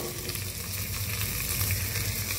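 Mint leaves sizzling in a frying pan for kushka rice, a steady bright crackling hiss that stays close and even, with soft stirring underneath and no voices.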